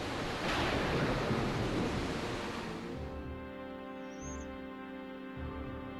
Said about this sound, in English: Oh, the sea raged.